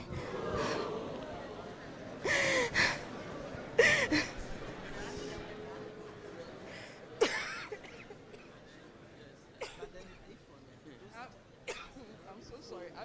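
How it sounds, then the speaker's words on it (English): Several coughs and throat clearings from a person with a cold, sharp bursts scattered through a live orientation session, close to the microphone, between stretches of quiet room noise. "I'm so sorry. I've been coughing."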